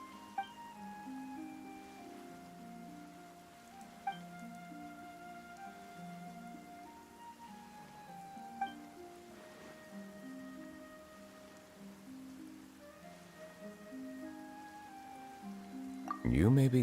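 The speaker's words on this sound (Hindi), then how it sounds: "Why is it raining" Steady rain falls in the Genshin Impact video game as a soft, continuous hiss. Gentle music with sustained tones plays over it, and a sharper sound rises at the very end.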